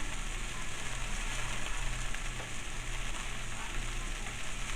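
Shrimp and salmon fry in a pan, a constant close crackling sizzle that holds steady throughout with no voices.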